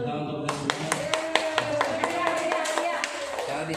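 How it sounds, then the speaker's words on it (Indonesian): Applause from a school teachers' gathering on positive school culture, steady hand claps with sharp individual slaps standing out over a low room murmur, starting abruptly and continuing evenly. "luar biasa tepuk tangan untuk kita semua"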